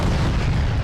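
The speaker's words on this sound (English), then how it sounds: "The Angara's primary weapon is a new 125mm cannon" A 125mm cannon on a T-140 Angara tank fires in the Arma 3 video game, giving one heavy, loud boom that fills the whole moment with dense low rumble.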